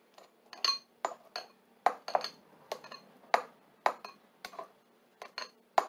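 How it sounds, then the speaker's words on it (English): Knife blade striking a cutting board in short, clicky taps while slicing a Mexican-style ground beef mix for nachos and tacos, a dozen or so close, irregular chops with no talking. "I'm just going to take my knife and slice it up."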